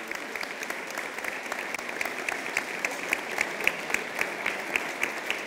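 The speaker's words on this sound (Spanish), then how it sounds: "Fuerte el aplauso." An audience applauds at an awards presentation during a folk music gathering in the Canary Islands, a steady mid-level wash of many clapping hands with sharper individual claps standing out, sustained throughout.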